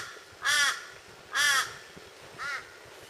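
Three loud, harsh caws from a crow at dawn at a campsite at Coochin Creek, Australia, evenly spaced about a second apart and fairly close, the last one a little weaker.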